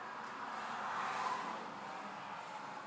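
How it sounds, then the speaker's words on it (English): A car drives past on a quiet road outside an open window, a soft broadband whoosh that swells and fades over a few seconds, with no talk. "car just went by and I got my window open."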